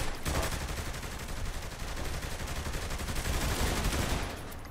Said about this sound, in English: we're actually under a lot of fire right now